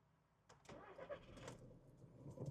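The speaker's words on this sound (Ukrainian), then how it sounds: "давайте запустимо двигун і подивимося, що у нас під капотом" A 2010 Skoda Octavia 1.6 TDI diesel engine cranks and starts quickly, then settles into a steady running rumble, with a few clicks near the start.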